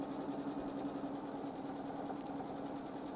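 A sewing machine runs steadily during free-motion quilting of wavy lines, a continuous close mechanical hum and rapid needle chatter with even loudness throughout and no talking.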